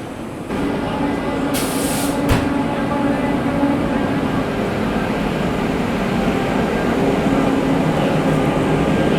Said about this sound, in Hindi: तो दोस्तों भोपाल शताब्दी एक्सप्रेस का अब हो गया है डिपार्ट।